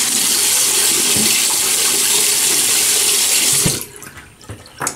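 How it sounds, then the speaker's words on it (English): Tap water runs steadily and fairly loud for nearly four seconds as the face is wetted before a shave with Proraso Green shaving cream, then cuts off, leaving quieter splashing and dripping. "let me wet the face."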